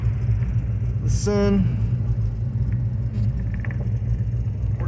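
A 1971 Plymouth Road Runner's engine rumbles low and steady as the car backs slowly into storage, with a brief voice heard over the idle.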